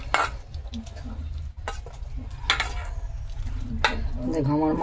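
Food is kneaded and mixed by hand in a bowl, giving soft squelching and wet rustling with a few sharper knocks against the bowl, while someone talks quietly throughout.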